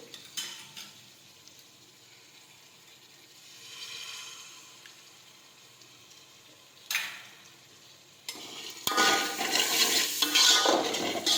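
Sukibhaji potatoes stirred while sautéing in a pan: faint scraping and soft clinks at first, then a louder, busier clatter of utensil against pan mixed with sizzling near the end.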